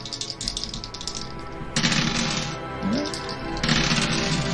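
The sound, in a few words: many dice rolling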